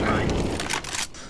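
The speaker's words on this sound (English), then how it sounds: "Deploying flashbang." A flashbang grenade bursts during a CS:GO match on Mirage, a sharp crack followed by a ringing, hissing tail, with game noise underneath.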